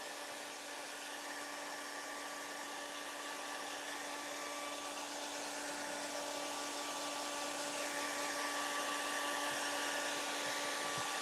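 A hair dryer blows steadily on acrylic paint drying on an Easter garden stake, a continuous close, even whir with a faint high whine, running alone without pause.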